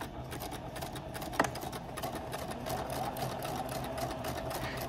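Sewing machine running steadily while stitching a piped seam, a continuous rapid mechanical whir with fast rhythmic needle chatter and one brief knock early on, close and moderately loud with no talking.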